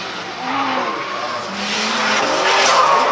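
A drift car skids hard with loud, sustained tire squeal over a roaring engine, close and continuous for the whole stretch and growing slightly louder toward the end.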